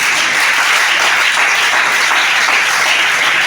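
A church congregation applauds Shana, a steady wash of clapping that stays loud and even throughout.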